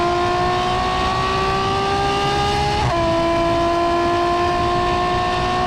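A Ferrari F12 fitted with a Novitec exhaust revs hard and holds a loud, steady, high engine note for several seconds, with one brief dip in pitch midway before it climbs again.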